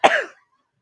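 A single short, sharp cough, close and fairly loud, dying away within a third of a second with nothing after it.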